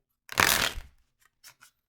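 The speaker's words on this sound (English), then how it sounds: "I'm going to shuffle one more time." A single quick riffle of shuffled tarot cards, close and crisp, followed by a couple of faint taps as the deck settles.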